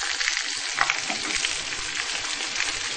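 Black pudding fries in a pan with a loud, continuous, close sizzle and crackle that holds steady throughout, with no voices.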